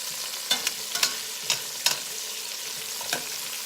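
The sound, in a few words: stirring onions and garlic sautéing in a pot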